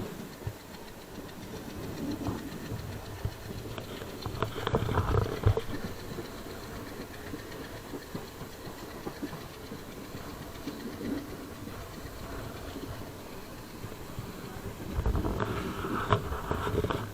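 A night train runs from Guwahati to Jorhat with a low, steady rumble and faint clatter heard from on board. The level swells briefly a couple of times.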